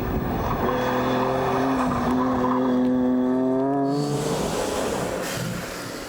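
A powerful turbocharged car engine runs loud and close, its harmonic drone climbing steadily in pitch as it revs hard, then dropping away into a rougher, noisier roar near the end.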